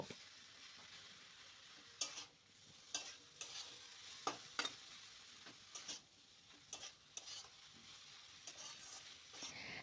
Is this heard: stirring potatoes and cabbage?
yes